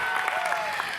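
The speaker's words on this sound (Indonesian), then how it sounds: "Tepuk tangan dong buat Gagak hitam saya di sana" Audience applause at a lively stage event, a steady wash of clapping over about a second with faint voices underneath.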